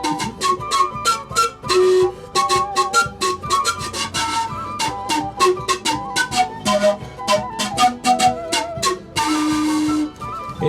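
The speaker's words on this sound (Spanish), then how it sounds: "tenemos esto que es una zampoña" Zampoña panpipes made of wooden canes play a breathy, airy melody of short repeated notes and a few held tones, close and steady, with no talking.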